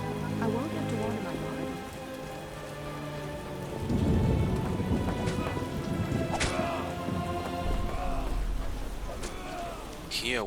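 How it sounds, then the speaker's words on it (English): Steady rain with rumbling thunder in the Witcher video game, a continuous wash of drops that swells around the middle under a low tonal music bed. "How sad when it rains."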